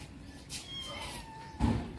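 A brown cat gives a couple of soft meows, fairly close and quiet, with a brief knock or rustle near the end.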